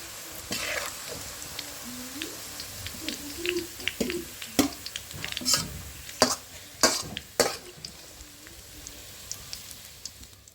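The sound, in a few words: fried onions (beresta) sizzling in oil, lifted out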